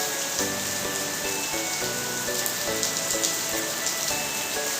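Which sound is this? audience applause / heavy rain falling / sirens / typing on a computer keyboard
heavy rain falling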